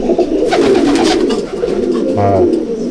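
Loud, dense cooing fills a racing pigeon loft, several birds calling at once close up, and a short low droning tone joins briefly near the end.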